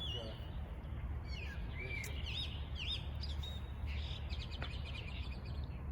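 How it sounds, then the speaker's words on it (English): Birds chirp and tweet in short scattered calls over a steady low rumble of crowd and city noise outdoors at a New Year celebration in China, with lanterns around; the calls are faint and sit above the background. "the birds chirping, so beautiful"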